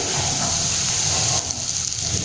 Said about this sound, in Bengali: এখন একটু ভালো করে আলুটা ভেজে নিচ্ছি